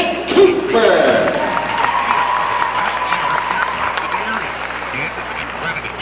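A crowd in a high-school basketball gym applauds and cheers for an introduced player, a broad steady wash of clapping that stays loud and then slowly thins while an announcer speaks over it.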